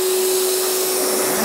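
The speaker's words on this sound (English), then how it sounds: "Extractor, router." Dust extractor running in a woodworking shop ahead of routing, a steady loud broadband whoosh with a constant motor hum, no voices.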